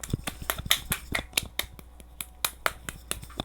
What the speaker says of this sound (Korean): 박수를 쳐보겠습니다